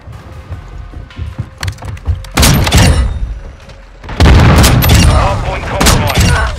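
Gunfire from a video game shooter, loud bursts of rapid shots and booming blasts coming in dense clusters, with a short quieter gap between the heavy volleys.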